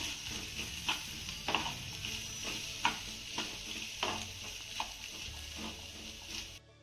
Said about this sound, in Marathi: बटाटा आपल्याला मसाल्यामध्ये दोन ते तीन मिनटं चांगला परतून घ्यायचा आहे